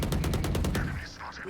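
Rapid automatic gunfire in the video game Valorant rattles off about a dozen evenly spaced, close, loud shots in a quick burst, then stops and leaves faint game effects.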